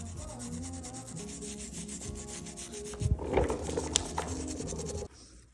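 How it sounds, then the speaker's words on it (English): Steady, close scrubbing and rubbing strokes work mud and grime off parts of a 1989 Honda CR250R motorcycle, with a louder scraping burst partway through before it stops abruptly. "I'm just working on getting all this stuff off, all this mud and grime"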